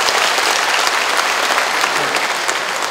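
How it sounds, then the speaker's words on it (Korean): Audience applause at a talk, a loud, dense, steady burst of clapping from the crowd that fills the whole moment without pause. "박수 한번 쳐주시죠"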